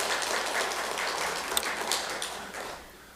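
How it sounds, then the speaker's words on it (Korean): Applause from a church congregation during a Sunday morning Methodist service, a broad wash of clapping that stays steady and fairly close, then thins and fades toward the end. "박수 한번 다시 해주세요."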